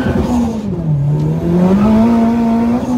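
A turbocharged car engine revving hard, a loud close droning tone that dips and then climbs again over a few seconds, with no talk.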